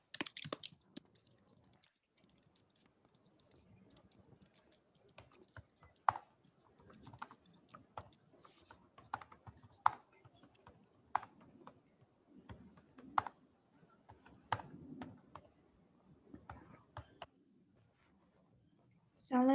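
Students tapping on computer keyboards in a quiet room, soft irregular clicks and keystrokes scattered throughout, fairly faint, with occasional louder taps.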